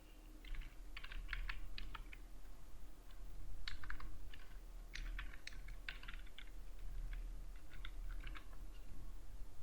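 Keys clatter steadily on a computer keyboard while text is typed into a PDF form field, the clicks arriving in quick irregular bursts with short pauses, fairly close and alone over a low hum.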